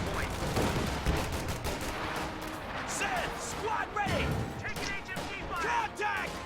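Rifle grenade blasts and gunfire in a video game battle, repeated sharp cracks and bangs mixed with game effects, under steady excited commentary.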